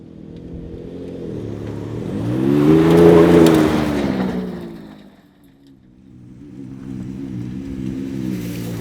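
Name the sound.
F-150 EcoBoost V6 exhaust revving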